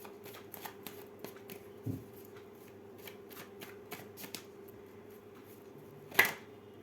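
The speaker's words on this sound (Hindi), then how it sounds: "बहुत सारे कार्ड है, मैं नहीं ले सकती, एक कार्ड लूंगी मैं बस।" Tarot cards being shuffled by hand, a run of soft crisp riffling flicks with a few louder slaps, close and fairly quiet, ending in a sharp card snap near the end, with no talking.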